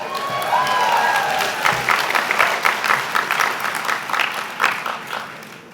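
Audience applause fills a university law school hooding and diploma ceremony, a dense sustained clapping from a large crowd that stays loud throughout, with faint cheering mixed in.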